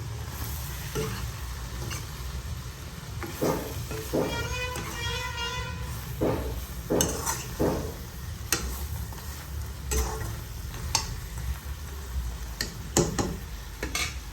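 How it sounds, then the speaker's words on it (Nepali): Two tomatoes being stirred in a hot pan for a spicy goat meat (khasi ko masu) dish: steady close sizzling broken by repeated scraping and tapping of the spoon against the pan. "दुईवटा टमाटर पनि अब एकछिन चलाइदिने।"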